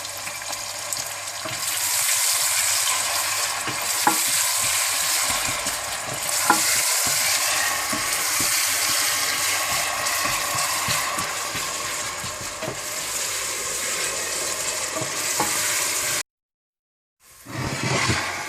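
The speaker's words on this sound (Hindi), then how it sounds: "प्याज को आप हल्का सा ब्राउन कर लें" Onions frying in a pan for keema aloo crackle in a steady, bright sizzle with occasional stirring clicks, running continuously before a short silent break near the end and then resuming.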